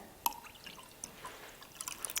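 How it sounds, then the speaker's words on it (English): Coloured water poured into a glass of water, heard as faint, irregular drips and splashes with a sharper plink near the start and small liquid ticks scattered throughout, close and quiet with no talk. "So first of all, I'll pour it into the water."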